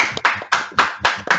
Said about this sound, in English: You deserve a clap.